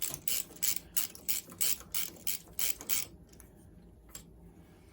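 A hand ratchet snugs up the cylinder bolts on a 1973 Honda PC50 moped, giving about ten quick clicking bursts in an even rhythm, then a pause and one final stroke, close up and quiet with no talking.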